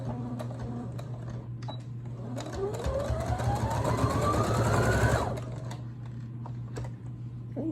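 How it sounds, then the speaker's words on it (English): A sewing machine stitches and backstitches a St. Patrick's Day placemat, a close rattling run that rises in speed to a steady whir for a few seconds, then stops, with faint handling clicks around it. "Now we're going to start sewing where we stopped and backstitch"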